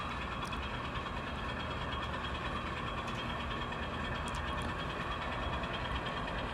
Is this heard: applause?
no